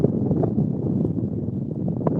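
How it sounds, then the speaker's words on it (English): Strong wind buffets the microphone outdoors, a continuous gusty roar with low rumble and shifting bursts, no speech. "Yeah, it's windy."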